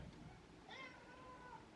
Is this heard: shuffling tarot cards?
no